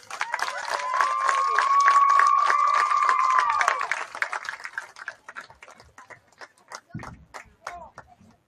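Crowd at a high school football game cheering and clapping for a cheerleader, a swell of applause and shouts that thins into scattered claps while an amplified tone rings out over the stands at first.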